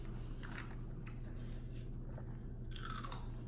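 A person bites and chews a spicy, crunchy Indian snack mix with coconut, corn and jalapeño, giving close, scattered crunching bites over a steady low background hum.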